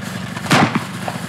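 A single sharp rifle shot fired at point-blank range, angled downward at a seal on the ice, with a loud broadband crack and a short echoing tail standing alone against low background noise.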